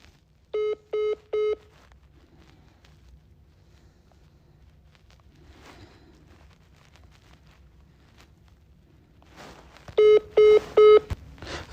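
A telephone on hold rings out twice, each time as a set of three evenly spaced electronic tone bursts: first near the start, then again near the end. Faint room noise and scattered small knocks fill the long quiet stretch between them.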